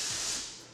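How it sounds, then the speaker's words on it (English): A single short hiss of isopropyl alcohol sprayed onto the surface of a BMW e90 335i with an N54 engine, close and fairly loud, fading out within a second. "spray a little bit on there"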